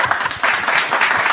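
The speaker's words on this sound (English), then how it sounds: "I need some claps, people." A short burst of clapping from a small group, steady and fairly loud, with no voices over it.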